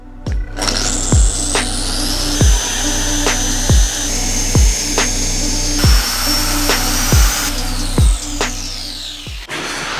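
A machine polisher cuts Porsche 911 paintwork with heavy cut compound, giving a loud, steady whir. Regular thumps come roughly every second as the pad moves from one area to the next, with no voices.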